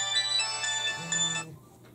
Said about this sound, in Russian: Вот звонит Татьяна Капустина.